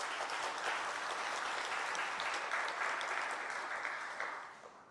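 A church congregation at a Sunday worship service applauds the substitute organist, a full, steady burst of clapping from many hands that stays even for several seconds before fading out.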